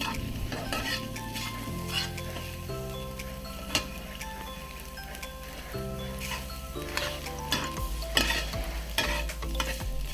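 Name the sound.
eggs being stir-fried into bhujia in a hot pan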